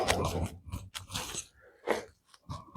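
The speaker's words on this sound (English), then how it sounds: "I'll try to use it on this old dry piece here for a draw knife." A 12-inch Tramontina machete worn as a draw knife shaves an old dry piece of wood, making a few short, crisp scraping crunches in uneven bursts with brief pauses between strokes, close and fairly quiet.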